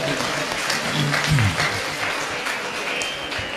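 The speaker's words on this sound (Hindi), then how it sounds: "तालियां जरूर होनी चाहिए।" Audience clapping steadily and fairly loudly for a young girl who has taken the microphone at an interview event, with some voices mixed in under the applause.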